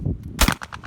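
A single loud shotgun blast cracks at a trap and skeet range at Camp Atterbury, Indiana, close by, with echoes rippling off afterward over low background murmur.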